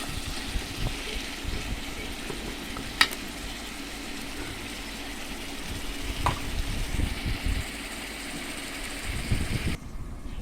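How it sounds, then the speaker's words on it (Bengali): Sweet pumpkin pieces fry lightly in hot oil for an egg dish, a steady broad sizzle running throughout with a couple of sharp clinks or pops and low rumbling underneath, no voices. "মিষ্টি কুমড়োগুলো হালকা করে ভেজে নেব।"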